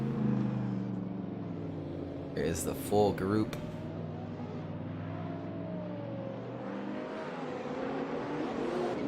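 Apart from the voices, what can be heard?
drift cars driving by in a sim racing video game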